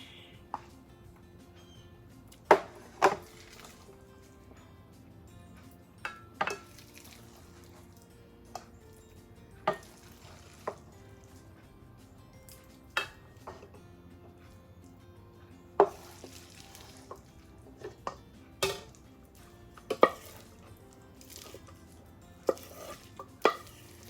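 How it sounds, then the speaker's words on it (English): A spoon stirs cooked rice into andouille sausage gravy in a pot for Cajun dirty rice, with scattered sharp scrapes and clinks against the pot over a quiet background, about a dozen irregular strokes. "all we do is stir everything together. Make sure every grain of rice is coated in the sausage gravy."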